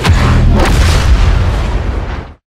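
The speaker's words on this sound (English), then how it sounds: "the Thermal Imploder, a supercharged grenade with an incredible sound effect and increased damage" Thermal Imploder grenade from Star Wars Battlefront going off: a single loud, close, booming blast with a heavy rumbling body that sustains for about two seconds before cutting off abruptly.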